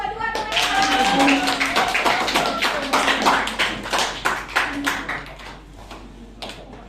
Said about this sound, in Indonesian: Oke, silakan berikan tepuk tangan untuk kelompok 2